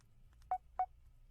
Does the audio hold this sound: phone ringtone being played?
yes